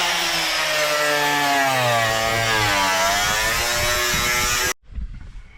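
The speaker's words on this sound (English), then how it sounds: "Okay, so we're just cutting back some carpet here." A high-pitched power tool whines loudly and steadily, rising and falling in pitch as it cuts back carpet inside the cab of a 1966 Ford Galaxie, then stops abruptly and leaves brief quiet handling noise.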